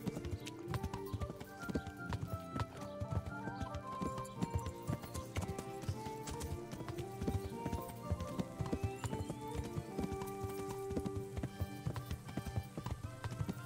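Horse hooves clip-clop in a rapid, steady rhythm throughout the video game Kingdom Come: Deliverance, set under a continuous bed of game music, with a faint whinny possible and no clear talk.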